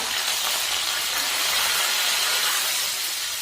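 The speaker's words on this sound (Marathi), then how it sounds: "आता तेल गरम झालेलं आहे आपलं आपण त्यामध्ये जिरे मोहरी टाकूया" Cumin and mustard seeds hit hot oil in a kadhai, producing a loud, steady, close sizzling hiss that holds evenly throughout, with no voices.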